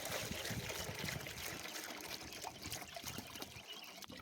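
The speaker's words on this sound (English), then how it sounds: "Fill this water up." Water pours and trickles into a bucket for chickens on a wintry farmstead, a continuous splashing stream that carries on steadily at moderate, fairly close volume, with no talk.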